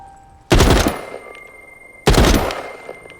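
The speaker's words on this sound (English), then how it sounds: "Burst fire" Two sharp bursts of gunfire from a weapon set to burst fire in The Walking Dead: Saints and Sinners, each a loud, dense crack that rings and tails off, spaced about one and a half seconds apart.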